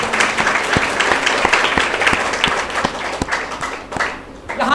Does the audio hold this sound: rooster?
no